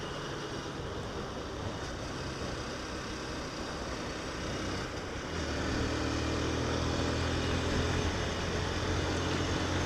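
A Honda CBF 150 motorcycle ridden on a road toward a village drones steadily throughout, the engine hum deepening and growing slightly louder midway, mixed with constant wind rush.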